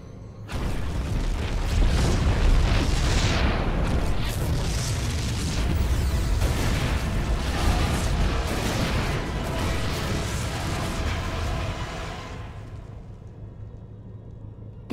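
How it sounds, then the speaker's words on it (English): Heavy rumbling explosions from StarCraft II boom one after another for about twelve seconds, dense and loud, then cut off abruptly into near silence. "The explosions have stopped."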